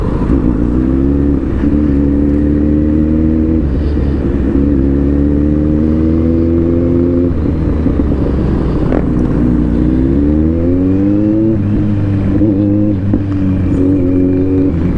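A Kawasaki Z900 big bike droning steadily while ridden in traffic, its engine note rising and falling with throttle changes, loud and close throughout with wind noise.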